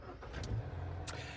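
A BAIC BJ40 SUV engine starts with a faint crank and settles into a low, steady rumble, heard from inside with a few soft clicks.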